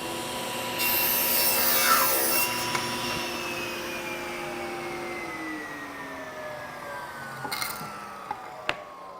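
A table saw rips a board with a sustained whining tone that dips in pitch as the blade loads during the cut, then settles and winds down, with a few sharp clicks and knocks near the end.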